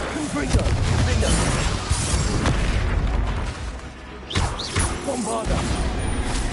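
Loud booming blasts of the Bombarda explosion spell in a Harry Potter video game, several bursts and crashes over continuous combat noise, with a voice talking through parts of it.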